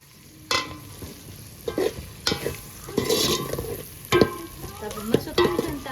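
Red chili powder and masala spices, with coriander and cumin, are stirred as they fry in a pan: scraping stirs recur in bursts over a steady sizzle, close and fairly loud, with no talking.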